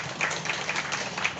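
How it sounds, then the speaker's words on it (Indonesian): Audience at a small-business bazaar in Kendal clapping: a brief, moderately loud burst of scattered applause from a crowd, heard briefly. "tepuk tangan dulu untuk pelaku UMKM semuanya"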